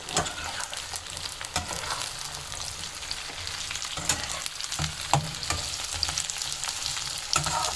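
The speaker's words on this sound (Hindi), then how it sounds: "भिंडियों को और प्याज को अब एक साथ ही फ्राई करेंगे इस तेल में" Okra and onion sizzle together in hot oil in a pan, a steady loud crackling fry with occasional stirring clatter, close up and without talk.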